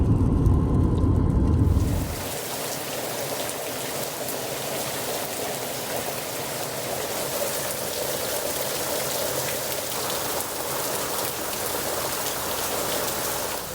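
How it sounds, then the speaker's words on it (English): Steady rain falls over a Phoenix landscape as a dense, even hiss that continues throughout; a heavier, deeper wash in the first two seconds gives way to a lighter, continuous patter. "just thought I'd share the rain with you and the pretty landscape over here"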